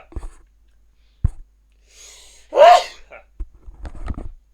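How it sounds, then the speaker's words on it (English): One sharp, loud human sneeze bursts out near the middle, alone in a quiet room with a few soft clicks and breaths around it. "Big old sneeze."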